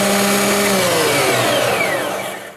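An Einhell TC-SP planer thicknesser, hooked to a vacuum extractor, runs with a loud, dense whirring roar, its motor whine sliding lower as it starts to spin down near the end.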